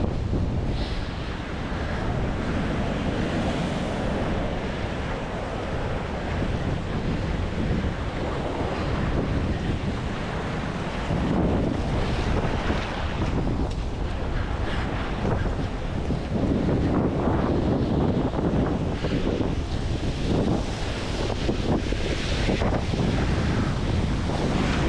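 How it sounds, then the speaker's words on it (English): Ocean surf at the Deadmans break, recorded from a surfer's point of view, with waves rushing and breaking amid heavy buffeting wind on the microphone, loud and continuous with surging swells and no talking. "Last wave for the day before the big swell rolls in tomorrow."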